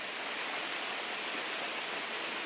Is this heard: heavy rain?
yes